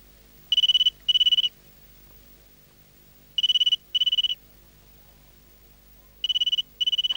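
A telephone rings in three pairs of bright electronic trills separated by pauses, fairly loud and close, with no talking.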